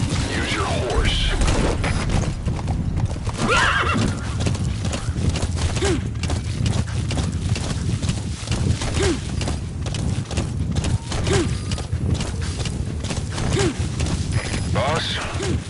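Galloping horse hooves in the open-world game Metal Gear Solid V: The Phantom Pain, a steady rhythmic clip-clop over ambient noise, with a brief whinny; voices are heard at times.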